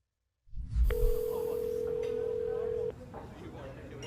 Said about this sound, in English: an older gentleman calling his son on his phone